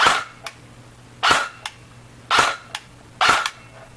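An upgraded Echo 1 ER25 SR25-style electric airsoft rifle fires on semi-auto, four loud close single shots at roughly one-second intervals, each followed by a faint mechanical click, no talk.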